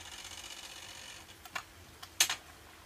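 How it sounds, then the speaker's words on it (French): A few faint, irregular light clicks and rattles from a ruler vibrated by a fan, over a quiet background hum, growing slightly louder toward the end. "c'est le ventilo qui fait vibrer ma règle"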